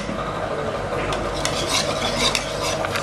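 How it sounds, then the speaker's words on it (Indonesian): A utensil stirs rice flour batter with salt in a bowl, making close scraping and clinking sounds in an irregular rhythm against a steady background hum. "Kita aduk merata."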